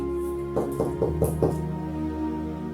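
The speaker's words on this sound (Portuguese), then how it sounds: "Eis que estou à porta e bato." Five evenly spaced knocks on a door, close and distinct, sit over a steady low musical drone with no voices.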